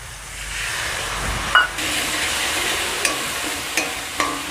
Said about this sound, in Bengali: মশলাটা আমি খুব ভালো করে কষিয়ে নিয়েছি